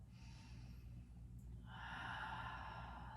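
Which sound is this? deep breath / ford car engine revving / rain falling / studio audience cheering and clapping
deep breath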